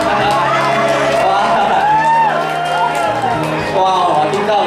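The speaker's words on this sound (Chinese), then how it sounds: "我听到有很有欢呼声了啊" Wedding guests cheer at a reception in a loud, continuous crowd roar with scattered whoops and shouts that fills the whole moment.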